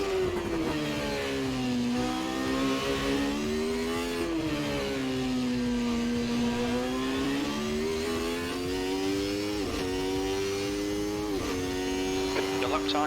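A McLaren MP4/8 Formula 1 car's engine in Assetto Corsa screams at high revs, its pitch rising and dipping through gear changes and corners in a continuous loud drone.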